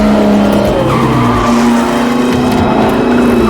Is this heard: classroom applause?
no